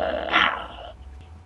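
A dog gives one loud, close bark that trails into a rough growl, a short sound effect within a spoken story, heard alone with no talk over it.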